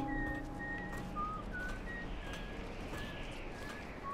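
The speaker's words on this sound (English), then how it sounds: "They're always whistling the same tune." Characters in the video game Dishonored whistle a simple repeating tune of thin, clear notes that continues throughout over a dense steady background ambience.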